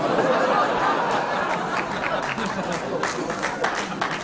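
Audience applause mixed with scattered laughter in a cabaret theatre during a German political comedy show, a dense steady patter of many hands clapping that fills the whole stretch and stays even without a clear peak.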